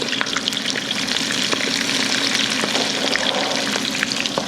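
Battered corn ribs deep-fry in a roomy pan of hot oil, a steady close crackling sizzle with fine bubbling pops throughout and no talk.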